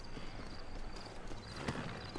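Horse hooves clip-clop at a steady walking rhythm in a Red Dead Redemption game scene, moderately close, with a light layer of background ambience and a faint voice.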